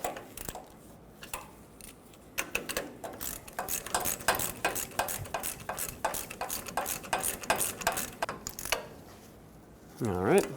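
A ratchet wrench clicks rapidly in quick bursts while snugging the mounting nut on the right outer tie rod of a 2000-2005 Ford Excursion, close and crisp, with brief pauses between strokes and a short voice near the end.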